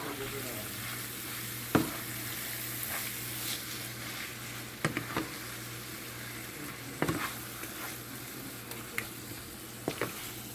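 Chicken keema with peas and potatoes fries in a pan with a steady low sizzle, broken by several sharp clinks and scrapes of a spoon stirring.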